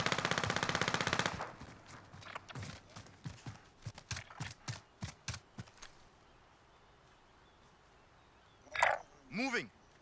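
Gunfire in the Call of Duty Warzone battle royale game: a rapid automatic burst, then a string of separate heavy shots with echoing tails, followed by a pause and two brief vocal or whooshing sounds.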